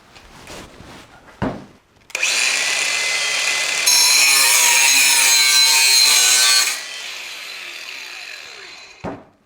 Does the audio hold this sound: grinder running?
yes